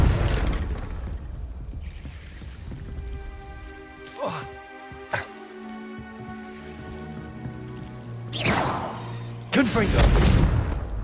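Confringo blasting spell fired in Hogwarts Legacy, heard as several sharp bursts, a couple of brief cracks midway and then two louder, broad explosive blasts near the end over steady game ambience.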